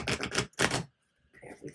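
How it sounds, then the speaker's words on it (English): Tarot cards are cut and shuffled by hand, heard as a few quick, close flurries of papery clicking and riffling, then a pause before softer card handling. "I'll cut the cards first, I think."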